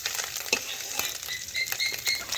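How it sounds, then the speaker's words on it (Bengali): Small fish frying crisp in oil, a close crackling sizzle broken by scattered stirring scrapes and spits, with no voices. "এই জন্য মাছগুলো একটুকু ভালোভাবে মচমচে করে ভাজতে হবে"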